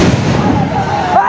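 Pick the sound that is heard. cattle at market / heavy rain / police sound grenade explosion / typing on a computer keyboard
police sound grenade explosion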